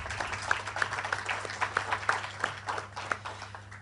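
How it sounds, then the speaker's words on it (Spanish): Applause from an audience at the close of a talk critiquing the Addis Ababa Action Agenda, with individual claps standing out against a low steady hum, moderately loud and uneven in rhythm. "los invito primero a un aplauso"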